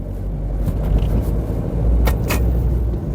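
A car with a semi-automatic gearbox that has a fault and a flashing N warning drives along steadily, a continuous low engine and road rumble with a couple of brief higher bursts, heard from inside the car.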